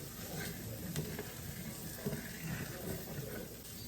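Finely diced jalapeño and onion sizzle quietly in a pan, a soft continuous crackle with a few faint clinks, no voices.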